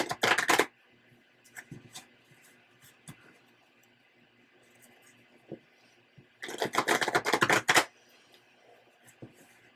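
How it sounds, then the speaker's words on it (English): Two bursts of tarot cards being shuffled, a riffle at the very start and a longer one near the end, with quiet handling and small taps between. "Let me shuffle."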